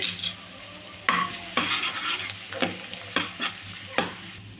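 Finely chopped garlic fries in hot oil in a pan, a soft steady sizzle broken by several sharp scraping stirs of a utensil against the pan, close and clear without talk.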